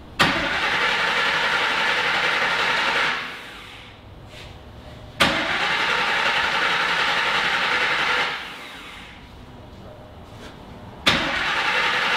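The engine of Griz the Wrecker, a tow truck, cranks in two long, loud, droning attempts, each opening with a sharp jolt and fading out after about three seconds.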